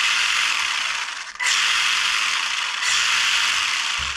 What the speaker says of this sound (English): That servo seems really slow in this.